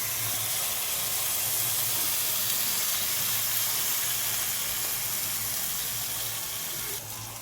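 Whole cumin and extra oil sizzle steadily in a pan while ingredients are sautéed for khichuri, a continuous loud hiss with no break until a slight dip near the end.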